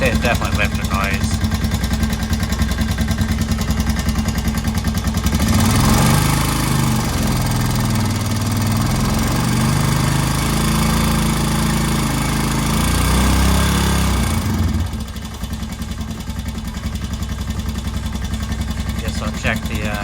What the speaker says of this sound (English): I want to say it's definitely lifter noise.